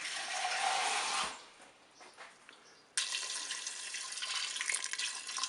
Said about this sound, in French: Je vais mettre de l'eau au ras des pâtes